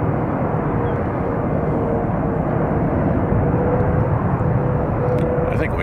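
A heavy jet aircraft at San Francisco International Airport during rush hour, heard as a loud, sustained low roar of engines that stays steady throughout.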